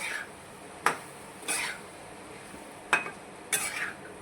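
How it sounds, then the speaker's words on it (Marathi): Leftover idli pieces being mixed in a pan, four separate scraping clinks of a utensil against the pan spaced across a quiet background. "आता छानपैकी मिक्स करून घेऊया आपण"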